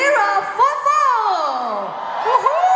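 Crowd at a Mirror 7th anniversary dodgeball challenge event cheering and whooping loudly, a continuous roar of many voices with rising shouts, close and full throughout.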